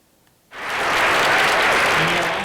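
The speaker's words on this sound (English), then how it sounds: "Applause for Kelly Loeffler at a meeting of conservatives today" Applause for Senator Kelly Loeffler at a meeting of conservatives bursts in suddenly after a quiet moment, swelling into loud, sustained crowd clapping that holds steady to the end.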